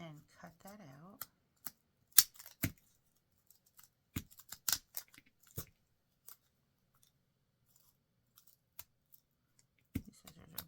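Scissors snipping paper while a paper carnation is cut out: a few short, crisp cuts scattered sparsely through near-silence, with a brief voice at the start.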